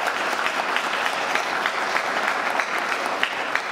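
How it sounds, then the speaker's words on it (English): A graduation audience applauds steadily, a dense crowd of clapping hands filling the hall at moderate distance without letup. "let's give the families a round of applause"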